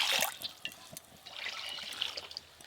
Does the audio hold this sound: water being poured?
yes